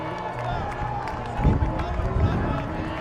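Packed Marshfield crowd at a varsity boys lacrosse game at James G. Anderson, a broad roar of cheering and clapping that swells in the middle, with an announcer's voice talking over it.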